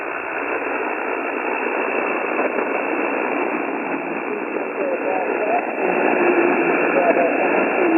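An amateur radio station on the HF band receives a weak signal through a loud, continuous hiss of band-limited static, with faint voice traces buried in the noise.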